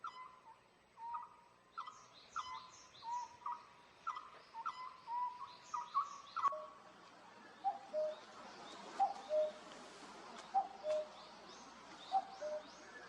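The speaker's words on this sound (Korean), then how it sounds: "이건 뻐꾸기인데?" A distant cuckoo repeats a soft two-note call at a steady rhythm, faint against a quiet outdoor background, with other birdsong earlier.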